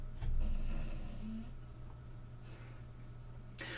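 A dog snores nearby in a room: a rough snoring breath, then softer snorts a couple of seconds apart, over a steady low hum.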